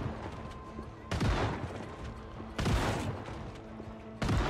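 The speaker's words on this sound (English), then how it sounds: "We'll just use up all the shotgun ammo." Shotgun blasts against a zombie horde in Project Zomboid, three loud broadband booms spaced over a few seconds over a steady game background, one shot following another as the ammo is spent.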